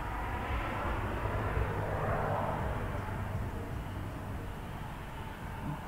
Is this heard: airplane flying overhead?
yes